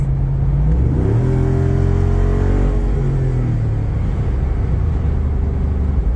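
A Jeep engine drones loudly from inside, revving up and shifting as it drives on a windy day, with a deep exhaust rumble and constant road noise.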